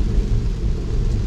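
Heavy rain pounds a Tesla while it drives on flooded roads, a steady, close broadband roar of rain and road noise with no voices.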